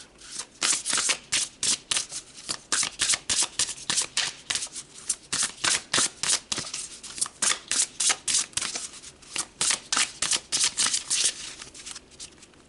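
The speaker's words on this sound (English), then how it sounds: "let's pull some more cards" Oracle cards shuffled by hand during a spiritual card reading, a long run of quick crisp riffling flutters in a brisk uneven rhythm, close and clear with no talking.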